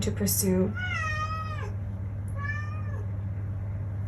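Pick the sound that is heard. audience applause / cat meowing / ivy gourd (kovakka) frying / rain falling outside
cat meowing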